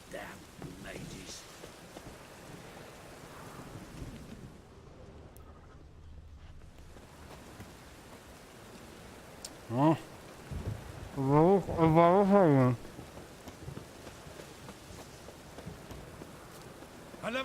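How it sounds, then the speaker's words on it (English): Steady rain pours in The Witcher 3, with a low rumble of thunder and a brief dip before a voice speaks over the downpour. "Rain again."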